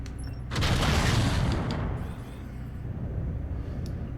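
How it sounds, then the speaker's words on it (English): A single heavy AC-10 autocannon blast in MechWarrior 5 Mercenaries, a loud booming hit on a target that swells and then decays into a rumbling tail. "Pretty tricky shot with the AC-10. Target destroyed."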